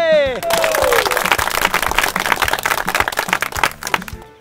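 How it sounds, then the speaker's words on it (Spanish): Coffee-growing farm families in Chaparral, Tolima applaud: loud, close, uneven clapping from a small group. It starts after a brief tonal sound, grows into scattered claps, and thins out toward the end. "Un fuerte aplauso para ustedes"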